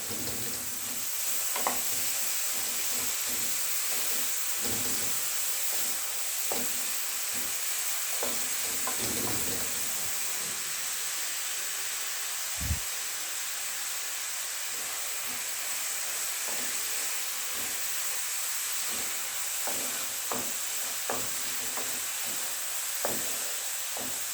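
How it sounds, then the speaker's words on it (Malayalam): Onions sizzle with salt in a hot frying pan while a spoon stirs them for an egg curry, a steady close hiss broken by light scraping taps. "എല്ലാം കൂടി ഒന്ന് ഇളക്കി യോജിപ്പിച്ച് കൊടുക്കുകയാണ്"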